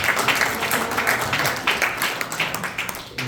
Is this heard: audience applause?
yes